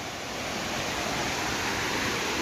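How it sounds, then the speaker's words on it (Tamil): A mountain stream flows steadily, a dense, continuous rushing of water heard close up and unbroken throughout. "இந்தா தண்ணி எப்படி பாயுதுன்னு வரும் நீட்டாக பாய்ஞ்சோன் இருக்கு தண்ணி"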